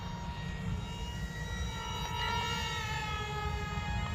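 A KFPLAN KF700 J20 brushless RC jet flying a loop, its electric ducted fan giving a steady high whine with layered harmonic tones that slowly bend in pitch, fairly close and continuous throughout.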